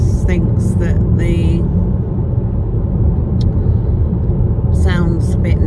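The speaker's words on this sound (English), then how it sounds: "I can hear the road noise because the car's so quiet" Steady low road rumble inside a quiet moving car, constant throughout beneath someone talking over it.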